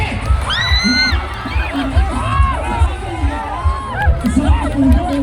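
A night fiesta crowd in San Miguel, Bulacan whoops and cheers, excited shouts and babble rising and falling over a thumping beat, with a host's voice carrying above.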